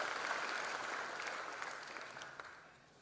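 Audience applause for a Vice President at a college freshers' induction programme, a steady wash of many hands clapping at moderate distance that slowly fades toward the end.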